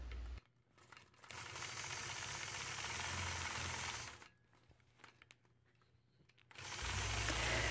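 A sewing machine stitching in the ditch on a log cabin quilt block runs with a steady mechanical whir and rapid needle patter, stops briefly to quieter handling noises, then starts up again.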